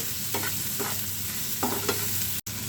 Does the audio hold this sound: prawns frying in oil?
yes